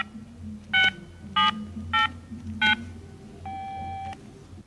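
Four short electronic keypad tones beep at an even pace as a mobile phone number is dialed, followed by a longer steady tone, all faint against a quiet background.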